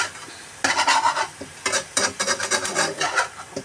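A utensil stirs and scrapes cauliflower scrambled in a frying pan, a series of quick close scraping strokes with a faint sizzle underneath after a short quiet start.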